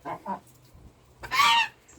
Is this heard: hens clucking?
yes